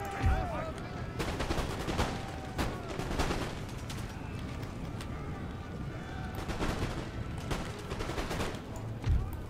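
Musket volleys fired by massed line infantry in Empire: Total War, loud cracking volleys rolling out one after another at intervals over a busy battlefield din.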